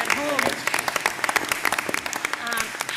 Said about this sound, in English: I have to say we owe a big round of applause to all the parents